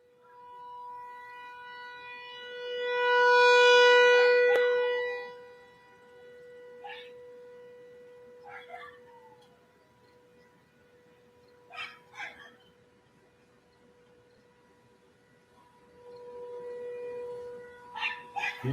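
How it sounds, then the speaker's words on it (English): A tornado siren being tested winds up and wails loudly, then sustains a steady tone while dogs bark and yip intermittently in the distance; the siren swells again at the end. "you folks will be hearing some tornado sirens"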